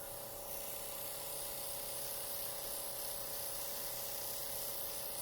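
An airbrush spraying makeup concealer gives a faint, steady airy hiss with a thin constant whine running underneath, unbroken and close for several seconds.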